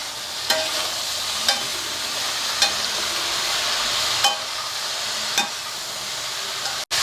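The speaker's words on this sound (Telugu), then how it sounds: "ఇది వేగిపోతుంది సిమ్లోనే పెట్టుకున్నాను" Ridge gourd curry cooking in a pan on a low flame, a soft steady sizzle with several sharp spoon taps against the pan at intervals, no voices.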